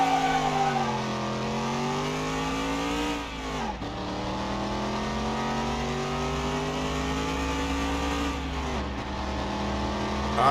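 A car engine revs hard and steadily in Car Mechanic Simulator 2021, a sustained loud mid-pitched drone that dips briefly twice as if shifting gears, with no talking over it.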